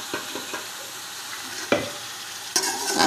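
Carrots and chip-cut potatoes stir-fry in a pan for chicken vegetable rice, a soft sizzle with a few brief utensil scrapes and knocks, close and moderate, no talk.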